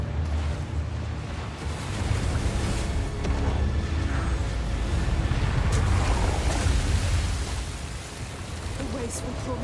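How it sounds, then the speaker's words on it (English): Waves surge and churn steadily in a dark coastal scene from the video game Hellblade 2, a loud, continuous roar of surf filling the whole stretch. "The waves will pull me under again."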